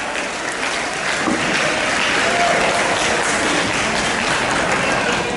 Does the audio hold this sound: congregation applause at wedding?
yes